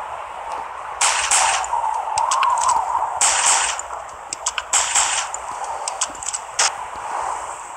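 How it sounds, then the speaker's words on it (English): A blunderbuss from a video game fires several sharp, loud blasts in irregular bursts. Each one leaves a brief crackling tail, with quieter clicks and clatter in between. "That's the second blunderbuss, current second gun"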